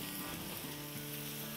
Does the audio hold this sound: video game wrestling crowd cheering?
no